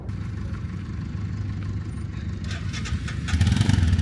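Motorcycle engines rumble at idle near a border crossing, a steady low drone that swells slightly louder toward the end.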